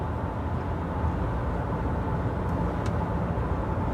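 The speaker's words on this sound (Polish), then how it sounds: "I spójrzmy jeszcze na poziom hałasu w kabinie." Cabin noise inside an Alfa Romeo Stelvio 2.0T cruising at 100 km/h: a steady, even rumble of road and wind noise, moderately quiet and unbroken, with no talk.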